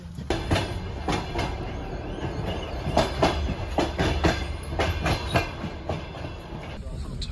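Passenger train rolling on rails while carrying people fleeing war in Ukraine, with a steady run of clickety-clack wheel beats over a continuous rumble, heard close from inside a carriage and with no voices.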